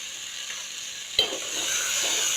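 Spices and curry powder frying together in a pan while cooking naan and stew, a steady soft sizzle with stirring scrapes and one sharp clatter midway.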